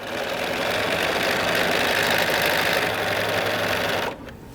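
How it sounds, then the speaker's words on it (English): Sewing machine stitching rows of quilt blocks together, a steady, close, continuous whirring hum that runs nearly the whole time before stopping abruptly near the end. "then I would continue to stitch till all 10 rows of blocks were sewn"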